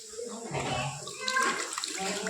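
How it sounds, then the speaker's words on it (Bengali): Tap water runs in a home kitchen while hands are washed under it, a soft steady splashing rush with voices, including a child's, talking over it. "দাঁড়াও হাতটা ধুয়ে আসছি।"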